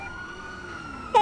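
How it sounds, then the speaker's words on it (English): A police siren sounds in the GTA 5 video game, its wailing tone sweeping steadily at moderate distance before a louder burst of bright, piercing siren cuts in near the end. "I hear the sirens."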